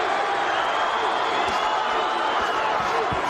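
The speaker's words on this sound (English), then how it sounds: "The crowd chanting, Johnny, Johnny. Another part of the crowd chanting, Paulie, Paulie." Boxing arena crowd at the 1999 Paulie Ayala vs. Johnny Tapia fight: a loud, dense, constant roar of many voices with rhythmic chanting swelling through it.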